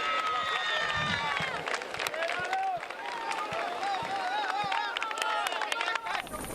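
A massive roadside crowd cheers and whistles at a stage of the Volta Ciclista a Catalunya cycling race, a dense, steady roar of voices and shouts with a commentator talking over it throughout.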